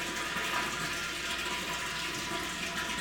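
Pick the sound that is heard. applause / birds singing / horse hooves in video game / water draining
water draining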